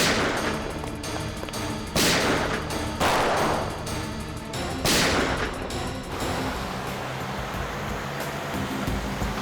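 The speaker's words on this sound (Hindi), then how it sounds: "एक काम करो, मुझे कवर फायर दो," Gunfire in a TV crime drama shootout, several sharp loud shots cracking out at irregular intervals over a noisy, dense action soundtrack.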